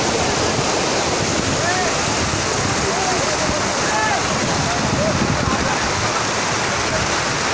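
Floodwater rushes fast along Shahrah-e-Faisal in Karachi, a dense, loud, continuous roar of churning water heard close by and without pause. A faint voice may sit under the flow.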